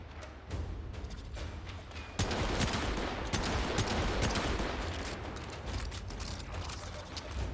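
Rapid gunfire in a shooter video game comes as dense, overlapping bursts of shots with a steady mechanical rattle that grows louder partway through and continues without talk.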